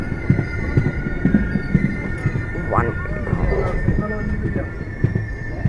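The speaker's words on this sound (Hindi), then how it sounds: "but let me show you the train" Kerala Sampark Kranti train on the move, a steady rumbling roll with rhythmic wheel clacks and a brief squeal near the middle, close and continuous beneath faint talk.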